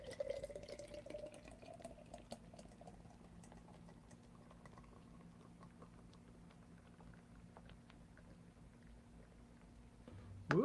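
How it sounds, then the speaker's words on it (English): A draft Guinness beer streams steadily into a glass, a faint continuous liquid pour with soft gurgling and dripping that lasts throughout, with no talking. "That would be a Guinness draft. Yep. And the proper way to pour it"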